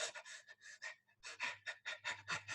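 A voice imitates rough, irregular breathing with a run of quick, loud, breathy pants and gasps, broken by one brief pause.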